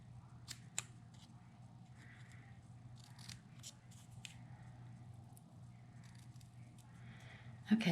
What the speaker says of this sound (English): I just aim to make a cut in the center of the piece and then cut diagonally to the point